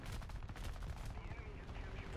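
Rapid aircraft cannon fire from a War Thunder dogfight against a fast bomber, a dense stream of quick bursts rattling continuously, fairly quiet and low in level.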